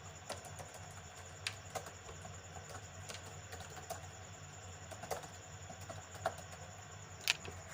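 Text typed on a computer keyboard while entering input for a Java program, scattered soft key clicks with a few sharper taps, quiet and close over a low background hum.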